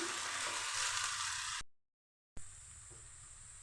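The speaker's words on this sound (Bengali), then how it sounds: "পেঁয়াজ আর আদা তেলের মধ্যে দিয়ে লাল করে পেঁয়াজ আদা ভেজে নিচ্ছি।" Chopped onion and ginger frying in oil in a pan, a dense close sizzle that cuts out briefly to silence midway, then returns slightly quieter.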